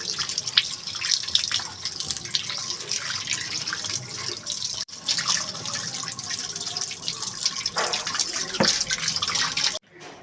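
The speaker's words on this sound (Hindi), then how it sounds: "मछली को पहले हम सादे पानी से धोएंगे अच्छे तरीके से।" Fish pieces are rinsed under a running kitchen tap, water streaming steadily into a sink with splashes and drips as pieces are handled, close and moderately loud, with no talking.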